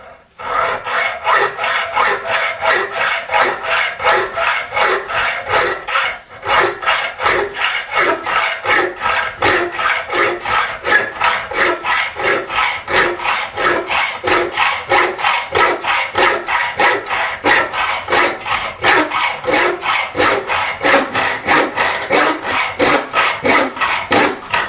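Hacksaw with a worn blade cutting a BSA Victor Special motorcycle footrest held in a vise: steady rhythmic back-and-forth rasping strokes, close and loud, continuing throughout with one brief pause.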